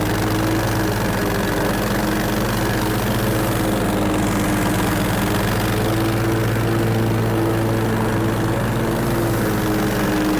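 Lawn mower engine pushing through overly thick growth during a cleanup job, a loud, steady droning hum that holds close throughout without talk.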